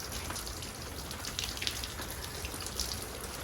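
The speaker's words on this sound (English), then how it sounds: "I've opened up both drains, and as you can see, water is draining out of them" Water drains out of the open drains of the water heater in a Forest River No Boundaries 19.5 camper, a soft continuous splashing patter heard faintly and alone.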